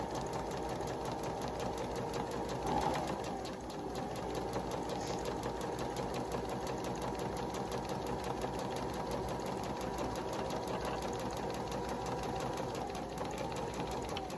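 Sewing machine stitching a pocket for a locker organizer, a steady fast mechanical whirr and needle chatter running continuously at close range, with a brief pause and restart.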